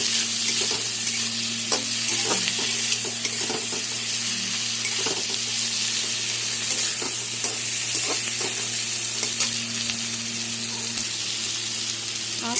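Onion, green chillies and tomato fry in hot oil in a pan for a Bengali fish curry, giving a loud, steady close sizzle broken by intermittent scraping stirs, with no talk.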